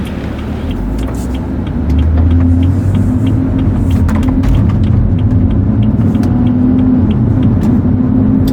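A BMW F30 335i running with its intake removed gives a steady low car-engine rumble that swells as it accelerates about two seconds in. The deeper drone then holds loudly throughout, with no talking.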